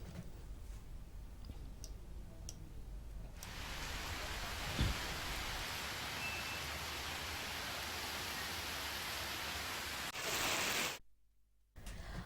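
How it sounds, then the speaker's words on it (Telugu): Heavy rain pours down in Hyderabad as a steady, dense hiss that swells loud and holds for several seconds, then cuts off abruptly near the end. "హైదరాబాద్ తో సహా యాదాద్రి భువనగిరి జిల్లాలో కూడా భారీ వర్షాలు కురుస్తున్నాయి."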